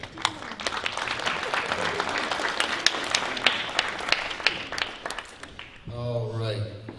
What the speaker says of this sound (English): How about another round of applause here?